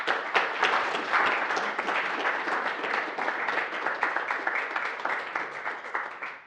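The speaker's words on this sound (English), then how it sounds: "There was a big round of applause for you there" A big round of applause breaks out after a conference talk on climate models, with dense, steady clapping from many hands filling the room and holding at a constant level throughout.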